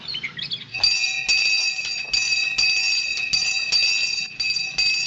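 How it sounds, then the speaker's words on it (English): A bath bell rings at a 1941 poor farm, a loud, steady electric ringing that sounds continuously with brief regular breaks in the tone, heard alone with no talk. "That's the bath bell."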